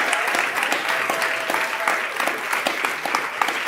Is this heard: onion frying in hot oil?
no